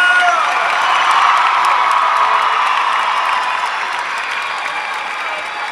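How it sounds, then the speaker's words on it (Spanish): A big concert crowd at a show in Aguascalientes applauds and cheers, with loud dense clapping and scattered whoops that ease slightly toward the end. "Un aplauso para la señora Flor."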